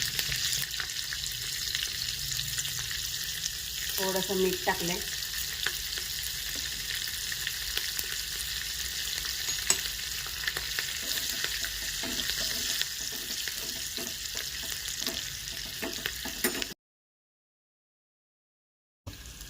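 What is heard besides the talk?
mustard seeds crackling in hot oil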